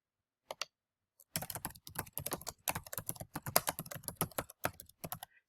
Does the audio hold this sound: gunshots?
no